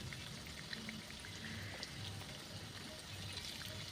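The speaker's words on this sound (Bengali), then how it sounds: "তাই একদম গ্যাসের আঁচটাকে লো করে দিয়েছি লো আছেই বড়াগুলোকে ভেজে নেব" Cauliflower fritters fry in oil in a pan over a low flame, making a constant soft bubbling sizzle that stays even throughout, with no speech.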